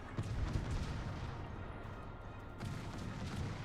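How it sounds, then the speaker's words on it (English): A video game firefight with both players blind-firing at each other, a brief exchange of muffled shots and booms over a low rumble, somewhat faint. "They're both blind shooting each other."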